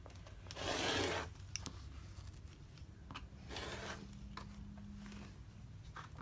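Quilting fabric for Christmas mug rugs trimmed on a cutting mat, close quiet rasping strokes of a blade through cloth in two or three passes, with light rubbing and a faint low hum.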